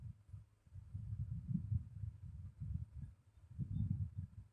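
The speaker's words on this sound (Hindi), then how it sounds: "पहले हम आर्म होल की सिलाई लगाएंगे।" A domestic sewing machine stitches the armhole seam of a cotton night dress made from an old dupatta, its low motor hum throbbing in steady bursts with brief pauses, close and fairly quiet, with no talking.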